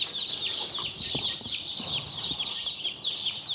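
Aseel chickens cluck and chatter continuously nearby, with soft bird calls overlapping in a busy farmyard scene.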